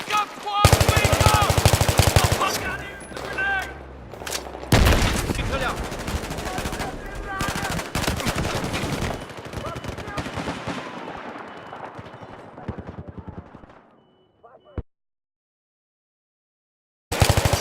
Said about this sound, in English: The way Battlefield 3 played while shooting guns